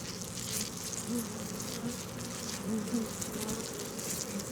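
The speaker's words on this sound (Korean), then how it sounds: "나무틀 빼곡이 꿀벌이 가득합니다." A dense mass of honeybees packed onto a wooden hive frame, giving off a steady, close, continuous buzzing hum that swells and eases slightly throughout, with no voices.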